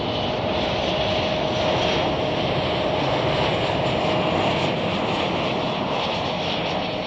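A Qatar Airways jet makes a full-length takeoff roll down runway 10 Left at Chicago O'Hare, its engines a sustained, even roar heard from some distance with no voices.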